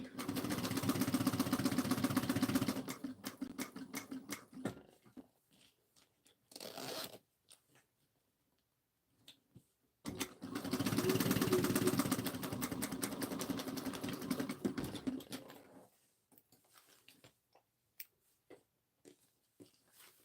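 Sewing machine stitching a zippered pouch, running in two sustained bursts of steady mechanical whirring separated by a long pause with scattered quiet clicks and handling noises.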